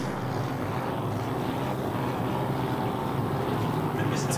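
Racing powerboats run a prize-money race on the water, their engines a steady, fairly distant drone that holds without a break and never comes close.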